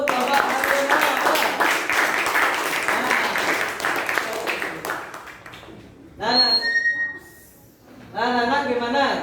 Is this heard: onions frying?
no